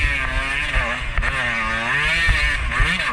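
A two-stroke dirt bike revs hard on a loose, slippery singletrack trail at Mclean Creek, its engine buzzing loud and close with a wavering pitch that rises and falls as the throttle works, and no voices over it.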